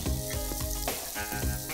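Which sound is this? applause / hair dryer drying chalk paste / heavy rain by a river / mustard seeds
mustard seeds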